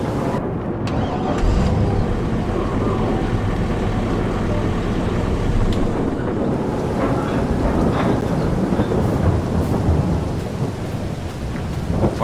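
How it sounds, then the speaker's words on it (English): Rain and thunder in the farming video game Farming Simulator 22: a loud, steady wash of rain with deep rumbling thunder rolling throughout, and a faint engine-like drone beneath. "oh, it looks like it's going to stop raining"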